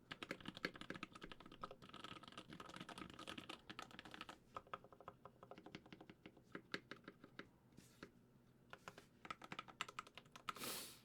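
Rapid typing on a Bauer custom mechanical keyboard, picked up close on a shotgun mic, clatters in dense bursts of crisp key clicks with brief pauses and a louder flurry at the end.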